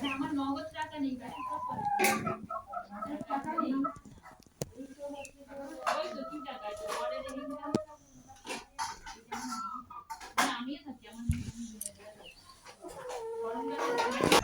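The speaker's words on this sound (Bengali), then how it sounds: "এটা হচ্ছে মুরগির ঘর, একটা মানে থাকার রুমের মধ্যেই মুরগি রাখা হয়, এত মুরগি।" Chickens clucking inside a room used as a chicken house, repeated close clucks and calls throughout, with someone talking over them.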